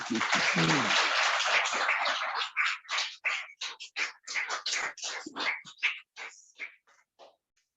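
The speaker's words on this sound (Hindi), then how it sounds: "जोर से ताली बजाइए।" An audience at a spiritual talk in a hall claps loudly, first in a dense burst of applause, then thinning into scattered individual claps that fade out over several seconds.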